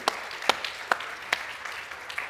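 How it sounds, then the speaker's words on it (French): A few scattered claps from an audience thanking speakers at a conference, five or six distinct sharp hand claps spaced out over a couple of seconds, fairly faint and sparse rather than full applause. "On peut déjà les remercier, les applaudir"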